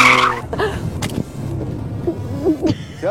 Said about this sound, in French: Tu vois, ça c'est freiner fort.